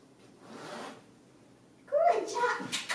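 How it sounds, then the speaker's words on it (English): A zipper on a soft pet crate is drawn in a quick burst after a brief softer rustle, close by, with a voice speaking alongside. "So I would start the zipper with her out here."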